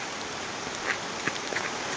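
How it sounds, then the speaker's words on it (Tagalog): Steady rain falls during a typhoon at a school, a soft continuous patter of drops with a few louder individual hits, fairly quiet and even, no voices. "lumalakas na naman po yung ulan"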